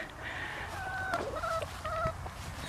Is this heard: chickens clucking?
yes